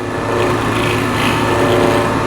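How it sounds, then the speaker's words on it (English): A scraper taking a very light cut on a yew wood box spinning on a lathe, producing a steady close rasping hiss over the constant hum of the machine, without any talking. "Just a really light touch. I just want a little bit of dust coming off the scraper"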